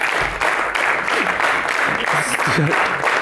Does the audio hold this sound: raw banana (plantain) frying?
no